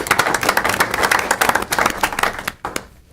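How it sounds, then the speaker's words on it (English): Audience at a utility board meeting applauding, a dense burst of close clapping that runs for a few seconds and then quickly fades out. "they deserve recognition and a round of applause"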